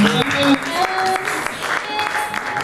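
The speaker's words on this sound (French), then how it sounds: "est-ce qu'on peut applaudir pour notre Dieu?" A church congregation applauds for God, a dense wash of clapping with shouts and a sustained musical tone rising through it, with voices mixed in.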